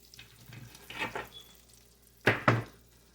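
Onions hit melted butter in a soup pot, with two short bursts of sizzling and stirring over a quiet background, close by and without speech.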